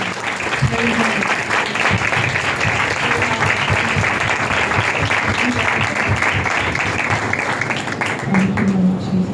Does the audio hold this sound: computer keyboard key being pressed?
no